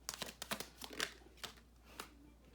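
Tarot cards are shuffled by hand in quiet, quick bursts of papery riffling and soft slaps, several short rustles in close succession that trail off into sparse flicks.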